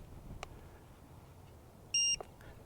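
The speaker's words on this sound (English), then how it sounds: "There we go. I got a beep anyway." A single short electronic beep from a Fimi A3 drone controller, clear and fairly loud, rings out against a quiet background with a couple of faint clicks.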